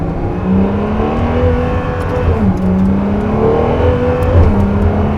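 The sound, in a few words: Ferrari sports car accelerating and shifting gears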